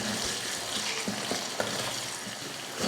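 Potato pieces sauté in oil with salt and turmeric, giving a steady bright sizzle with occasional soft stirring scrapes and clicks, close and continuous.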